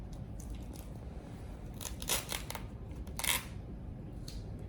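Temporary medical tape is peeled off near an IV insertion site in a few short, crinkly tearing rasps, two louder pulls standing out against a quiet background hiss.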